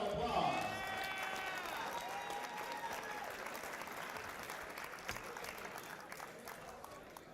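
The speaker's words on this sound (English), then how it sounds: "let's give our boxers another big round of applause" A boxing crowd applauds the fighters after a bout, a broad, steady roar of clapping and some cheering with a voice over the start, tapering slightly as it goes on.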